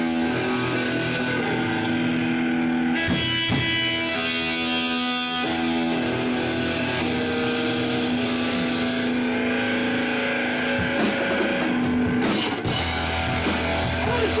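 Punk rock song plays loud and continuous, with distorted guitars driving steadily throughout and a brief drop in the middle before the full band kicks back in.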